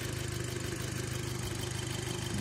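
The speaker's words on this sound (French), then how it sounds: "ça a l'air de tourner raisonnablement. Ça fait toujours son bruit de tracteur" A 2006 Audi A3 with a 2.0 FSI direct-injection engine idles with a steady, rough, tractor-like drone and an even low throb, heard up close and continuous with no talking.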